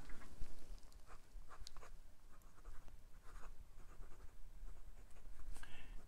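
A fountain pen with a fine size 6 steel nib, a Hongdian N7, scratches and scrapes across Clairefontaine 90 gsm paper in quick, irregular strokes, close and soft, with no talking.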